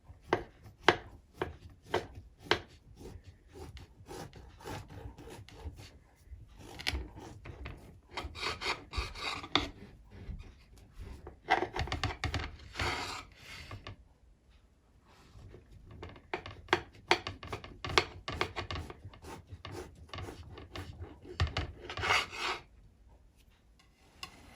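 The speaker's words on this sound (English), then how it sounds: "I'm ready to cut into my bake after it has been resting for a while" A knife cuts into a baked coconut bake, making repeated crisp scraping and sawing strokes in bursts with short pauses between them, close and fairly quiet, with no talking.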